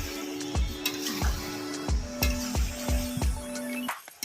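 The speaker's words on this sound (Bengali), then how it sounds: "মাংসটা আরো কিছুক্ষণ কষিয়ে নেব" Chicken and fried potatoes are stir-fried in a pan for biryani. A spatula clinks and scrapes against the pan about every half second over a continuous sizzle.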